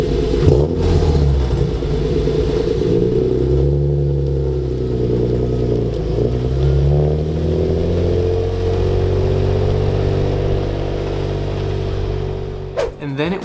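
A BMW M3 engine revs hard on the Sebring International Raceway circuit, loud and close, with sweeping rises and falls in pitch through the gears before easing off near the end.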